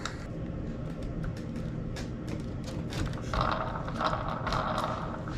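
A collar is tightened onto the tail wheel of a VQ model F6F Hellcat fighter, giving quiet close-up mechanical clicks and ratcheting scrapes in short irregular bursts.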